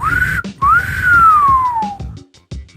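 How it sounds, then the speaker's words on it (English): A person lets out an admiring whistle: a short rising note, a brief break, then a long gliding tone that slowly falls, loud and close with no talk over it. "whistles in admiration of the number"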